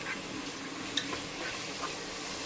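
Crushed ginger and garlic frying in oil for a prawn pickle, a steady soft sizzle with a few light clinks of a stirring spoon, and no voices.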